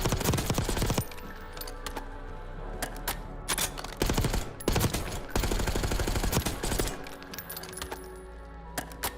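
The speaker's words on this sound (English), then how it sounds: "I'm just kind of shooting in the shooting range." Gunfire at a shooting range in the video game Warzone: sharp single shots and rapid bursts with clattering mechanical clicks, loud and close, separated by short quiet gaps.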